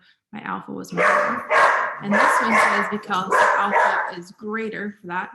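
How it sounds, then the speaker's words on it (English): Dogs bark and yip repeatedly in a home, loud and close, mixed in with a person talking over them. "Okay, sorry about my dogs."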